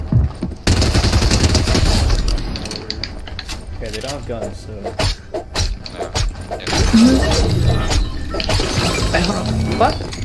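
Rapid bursts of gunfire crackle through a video game match, dense and loud, alongside clattering and other game effects while a player talks over the action.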